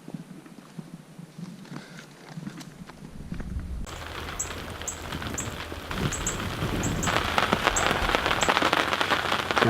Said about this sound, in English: The rain's really starting to come down.